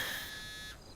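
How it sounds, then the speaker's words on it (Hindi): A mobile phone rings with an incoming call, an electronic buzzing tone held for under a second before it cuts off, fairly quiet with no voices. "कल्पेश का फोन आ रहा है।"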